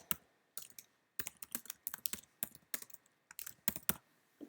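Computer keyboard typing in quick, uneven bursts of close, crisp keystrokes with short pauses between runs, alone without talk.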